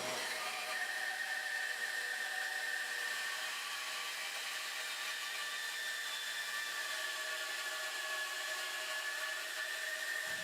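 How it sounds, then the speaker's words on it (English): A bandsaw resaws a wooden piece into two boards with a steady, high-pitched whine and hiss that holds continuously without pause, close and with no talk. "Over at the bandsaw, I could re-saw the piece into two boards."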